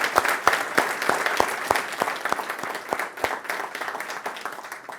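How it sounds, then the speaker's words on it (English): An audience at a college event gives a big round of applause, with sharp individual claps standing out over a steady crowd patter that lasts about five seconds and slowly fades. "So can we have a big round of applause for everyone involved with MCTV?"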